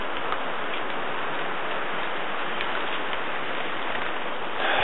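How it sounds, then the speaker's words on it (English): Rain pours steadily at a Balinese mountain temple by Lake Beratan, a dense even hiss with faint scattered drip ticks, close and constant throughout. "it's raining and I'm wet"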